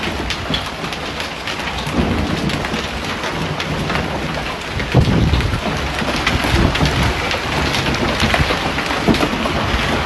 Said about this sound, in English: Oh, bad hail.